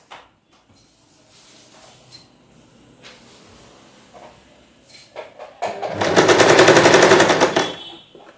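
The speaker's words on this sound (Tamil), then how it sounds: "அதனால் இப்படியே ஸ்டிச் பண்ணிட்டு வரணும்." A sewing machine stitches cloth during a tailoring lesson on cross pieces, a short rapid whirring burst of about two seconds close by, following quieter handling sounds.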